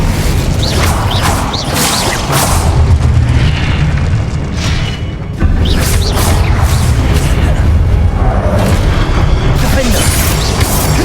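Loud spell-casting blasts from Confringo and Incendio in Hogwarts Legacy, booming fiery bursts and crashes following one another in a dense combat din, with voices calling out.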